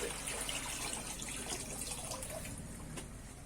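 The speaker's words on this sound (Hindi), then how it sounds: "अब ये देख के मैं पानी डालने लगे" Drinking water is poured into a container at home, a steady, fairly quiet splashing and trickling stream that runs throughout, with no one talking over it.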